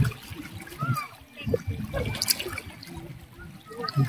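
Current of the Agos River in Infanta, Quezon, a close, uneven gush and splash of flowing water with someone talking over it.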